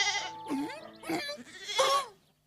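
A goat bleats close by in three wavering, nasal calls separated by short pauses, loud against a quiet background.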